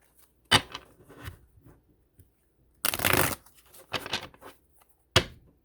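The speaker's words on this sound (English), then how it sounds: "I'm going to go ahead and pull some money cards." Tarot cards are shuffled and pulled by hand in a quiet room, with short riffling bursts and one longer shuffle separated by silent pauses, and no talking.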